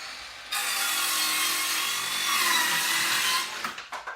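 Ridgid cordless circular saw cutting through rough sawn 1x8 wood on a battery that is running low, a loud sustained whining cut of about three seconds that ends with a few short rattling bursts as the blade spins down.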